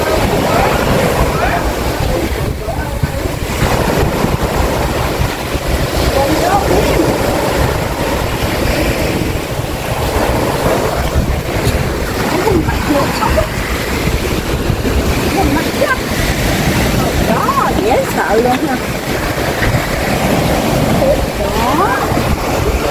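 Night sea waves washing onto the beach at Mui Ne, a steady loud roar of surf with wind buffeting the microphone, continuous throughout.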